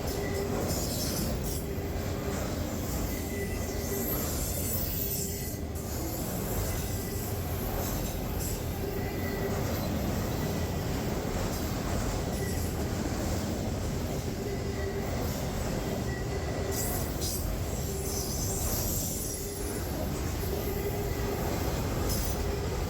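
A freight train with empty auto-rack cars at the back rolls steadily past with a continuous rumble, rattling cars and occasional faint metallic squeals, loud and unbroken throughout.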